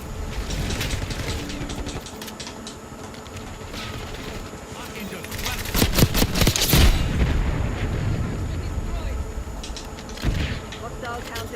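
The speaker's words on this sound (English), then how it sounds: "the shotguns in this game are absolutely awful" Shotgun blasts and weapon mechanics ring out in Call of Duty gameplay, with sharp bursts of firing around the middle amid continuous game noise, and a player talks at times over the action.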